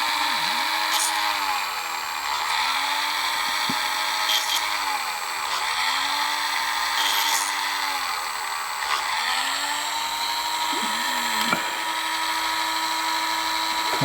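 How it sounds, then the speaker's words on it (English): A small drill boring out three cast holes in a DJH G5 model locomotive kit, a steady high whine that rises and dips in pitch as the bit bites and eases, running continuously and close for the whole stretch. "So we'll drill the 3 holes out."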